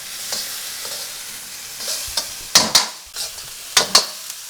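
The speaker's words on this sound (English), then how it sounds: "Okay, these are frying up quite nice." Shrimp fried rice ingredients, including chopped pepper and cut garlic, sizzle steadily in a pan while being stirred, with several sharper scraping clatters of the utensil against the pan near the end.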